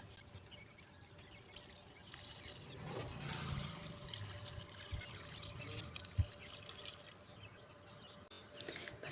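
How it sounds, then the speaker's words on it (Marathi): Water poured slowly off settled starch while making kurdai, a soft continuous trickle and splash near at hand, with a few small knocks of the vessel and no talking. "आता यामध्ये वरचं जे पाणी आहे आपल्याला ते काढून टाकायचं आहे आणि अगदी सावकाश हे पाणी काढायचं आहे"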